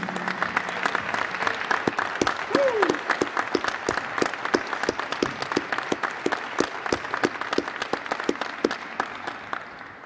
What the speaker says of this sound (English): I want everybody to give them a round of applause.